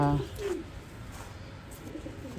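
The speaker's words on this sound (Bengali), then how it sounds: "চমৎকার একটা মাদি কবুতর" A racing pigeon in a loft gives a soft low coo near the start, followed by quiet rustling and faint background noise with no talk.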